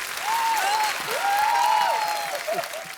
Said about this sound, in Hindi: जिन जिनको बात अच्छी लगी जोरदार तालियां